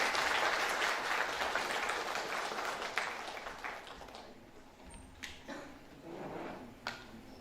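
An audience at an international microwave antenna and communication conference breaks into dense applause, strong at first and then thinning into scattered claps.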